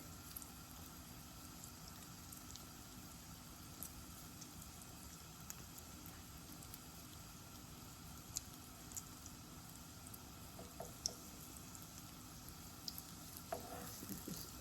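French toast slices browning in a pan give a steady, even sizzle that runs unbroken throughout, with a few faint clicks over the constant frying hiss.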